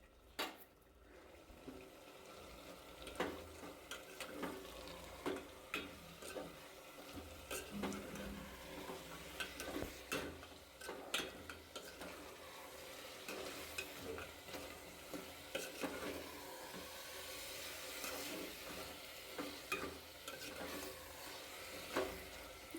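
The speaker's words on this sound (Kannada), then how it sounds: "ಈಗ ಸ್ವಲ್ಪ ಅರಿಶಿನ ಹಾಕಿ ಮಿಕ್ಸ್ ಮಾಡ್ಕೊಳ್ಳೋಣ" A spoon stirs turmeric into chicken frying in a pan for biryani, giving steady scraping and stirring over a continuous sizzle with scattered clinks of utensil on pot, close and moderately quiet, with no voices.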